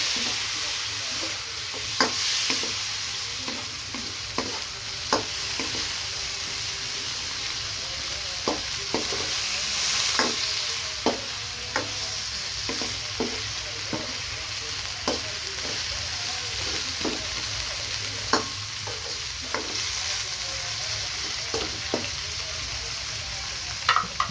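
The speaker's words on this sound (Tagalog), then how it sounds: "Halo-halo na natin." Food stirred in a hot pan with turmeric powder, a steady sizzle of frying running throughout with repeated scraping clicks of the spoon against the pan, close and continuous with no talking.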